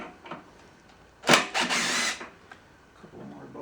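A power tool whirs in two short bursts, a loud close buzzing of about a second, while bolts are removed from the carburetor of a dead Craftsman mower, with quieter handling noises around it.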